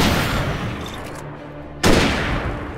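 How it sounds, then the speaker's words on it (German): A hunting rifle fires in the Alan Wake video game: a loud blast at the start fades into a quieter tail, and a second sharp shot follows near the end. "Also für die Großen nehme ich das Jagdgewehr."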